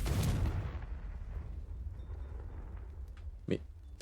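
Confringo blasting spell explosion in the Hogwarts Legacy video game: a loud booming blast at the start that rumbles and decays over several seconds, then a short sharp hit near the end.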